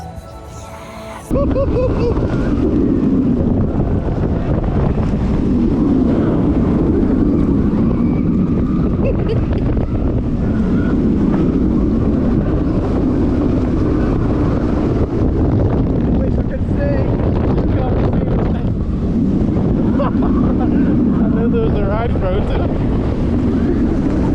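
Wind rushes loudly and steadily past the microphone while riding a B&M wing coaster at Toverland theme park in the Netherlands, a dense roar that barely changes for over twenty seconds and carries no talk.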